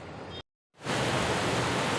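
Heavy rain pours outside a family home: a steady, dense hiss of falling water fills the air, briefly cuts to silence, then returns loud and constant.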